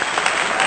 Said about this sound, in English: So applause for that one.